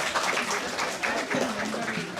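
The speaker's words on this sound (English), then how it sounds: "you can clap" Listeners at an academic graph algorithms session give a short round of applause, a dense, fairly soft patter of clapping with a faint voice murmuring underneath.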